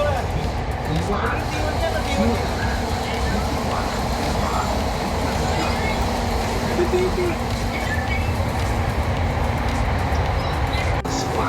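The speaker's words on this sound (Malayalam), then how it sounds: "ഡ്രൈവർ ഇല്ലാത്ത മെട്രോ." A steady rumble and hum of a driverless metro train running in Qatar, continuous throughout, with faint voices murmuring in the background.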